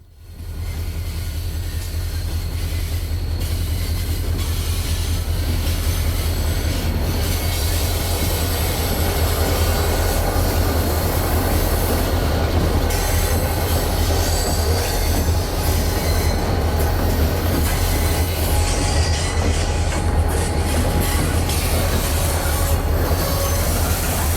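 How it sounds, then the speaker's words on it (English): An MRL grain train led by an SD40-2XR diesel runs on an HO scale model railroad layout, rumbling loudly and steadily at close range with continuous wheel noise, faint squeals, and a clickety-clack along the track. "catch an MRL grain train at the intermodal facility"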